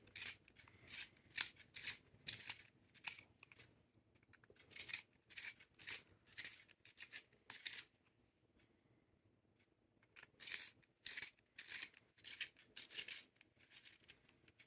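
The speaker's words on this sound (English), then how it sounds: "sharpen the Ticonderoga so we can compare the blunt tips across the" A manual pencil sharpener grinds a Ticonderoga pencil in quick, close rhythmic bursts of crisp scraping strokes, three runs of rapid turns separated by a short pause, with no talking.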